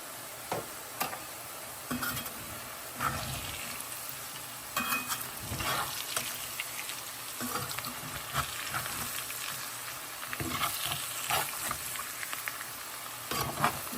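Potatoes fry in hot oil with salt and pepper while a cook stirs them, giving a steady sizzle with repeated scraping clatters of a utensil against the pan throughout.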